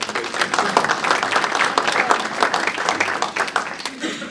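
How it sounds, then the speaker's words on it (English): A meeting audience at a flood task force session gives a round of applause, a lively spell of many individual claps heard fairly near that tapers off toward the end. "let's give her a round of applause"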